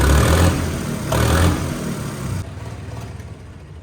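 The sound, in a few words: tractor engine revving with turbo sound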